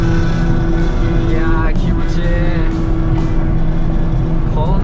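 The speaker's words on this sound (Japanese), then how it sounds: "あんなセダンの車がやべえ音してるなっていうね" A manual sedan's engine runs loud and steady with a rough, throaty drone, rising in pitch as it revs, heard continuously at close range without pause.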